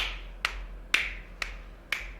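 During an exercise class, single sharp hand claps ring out four times at an even pace about half a second apart, crisp and moderately close against a quiet background.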